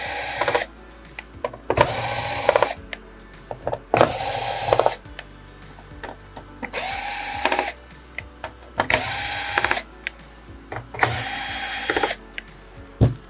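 A power drill backs six screws out of a Samsung PN59D7000 TV mainboard, giving six separate loud whirring bursts of about a second each, spaced by short quiet pauses with small clicks and handling sounds between them.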